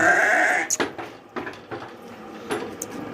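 A goat gives a loud, drawn-out bleat at close range in a village yard, followed by soft clicks and scattered faint bleats and rustles.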